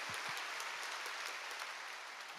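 A church congregation at a Friday evening service claps together, a dense, even wash of applause that holds steady for the whole moment, fairly faint and distant, with no talking.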